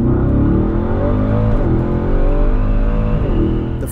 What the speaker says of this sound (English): There's no launch control, so you just mash the gas and the brake and go, and brace for a violent 1-2 upshift.